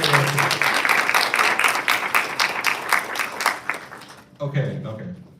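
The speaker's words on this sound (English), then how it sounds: "let's give it a round of applause for our guest speaker" An audience at an animation society meeting applauds a guest speaker, a dense burst of clapping for about four seconds that stops abruptly, followed by someone talking.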